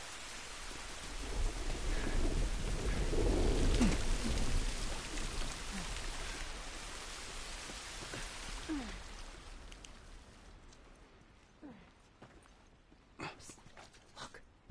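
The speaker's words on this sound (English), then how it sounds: "we're out of the rain." Steady heavy rain with rolling thunder rumbles in The Last of Us, a dense downpour hiss that fades and thins toward the end, leaving scattered drips and brief sharp knocks.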